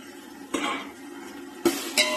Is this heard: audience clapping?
no